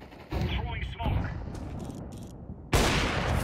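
Bursts of gunfire in Counter-Strike 2, long-range shots in a match, crack out in several volleys with a loud final burst near the end, heard alongside game audio.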